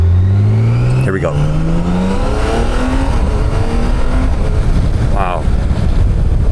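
A BMW 1600 GT engine revs hard while accelerating on the road, its rising tone climbing through a gear, briefly dropping at a shift and climbing again, loud and close inside the car.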